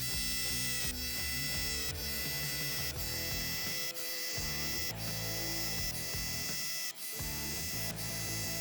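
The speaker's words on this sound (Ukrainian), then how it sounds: "І зараз давайте зробимо отвори на 2 амперному акумуляторі." A DeWALT DCH172 cordless rotary hammer on a 2 Ah battery drilling into a concrete block, with a continuous loud, dense hammering rattle and brief dips as the bit is repositioned.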